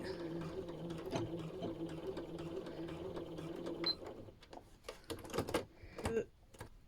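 Domestic sewing machine stitching a fabric headphone cover, a steady close rhythmic whirr of stitching that stops near the four-second mark, followed by scattered clicks and handling knocks.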